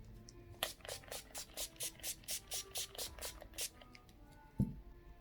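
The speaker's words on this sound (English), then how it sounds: "Now we'll go in with that setting spray" About a dozen quick, evenly spaced spritzes from a pump spray bottle, close and fairly soft, followed by a brief thump.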